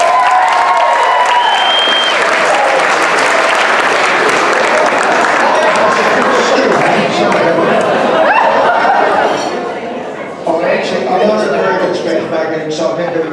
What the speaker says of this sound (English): Johnny McGoldrick, round of applause for you.